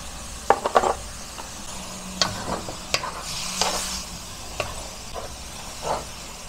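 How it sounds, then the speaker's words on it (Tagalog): Ground meat sizzling and browning in a hot pan as a spatula stirs and scrapes it in short, uneven strokes over a steady frying hiss, close and moderately loud, with no talking. "Medyo i-brown po natin ng konti yung ating giniling"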